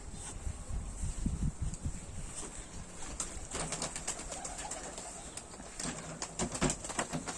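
Ornamental pigeons and doves in a coop in Düzce coo and call softly, with scattered wing flutters and shuffling, fairly quiet and close, with no talk.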